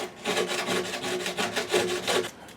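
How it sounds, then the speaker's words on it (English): A scrub block with 400 grit cloth-backed paper brushes over newly installed frets on a Martin D-35 acoustic guitar, a soft rhythmic rasping of quick back-and-forth strokes, close and quiet. "Gently brushing over the new frets with some 400 grit in the scrub block."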